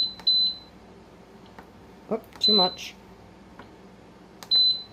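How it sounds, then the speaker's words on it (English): Electronic beeps from a pressure canner chirp several times, short high tones recurring at intervals, with brief speech in the middle. "Sorry about the beeping."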